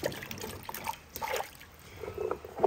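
Breadfruit pieces dropped into salted water, giving soft trickling and small splashes with a few light plops spread across the short stretch, close and fairly quiet.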